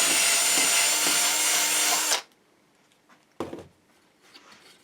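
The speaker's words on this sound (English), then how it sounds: "we're just going to re-drill that now, just through that center block there, so we can keep our wiring going" A power drill bores a wiring hole through the wooden center block of a headless guitar body, whining loudly and steadily for about two seconds before stopping, followed by a brief second burst.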